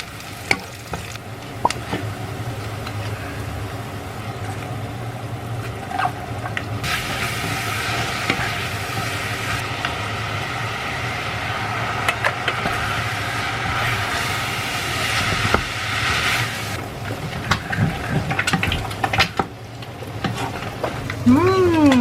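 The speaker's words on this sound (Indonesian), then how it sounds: "Ini si abang mau bikin telur mata sapi di sini nih." A sunny-side-up egg frying in a pan alongside a mie goreng meal, giving a steady loud sizzle with occasional scraping and stirring clatter throughout.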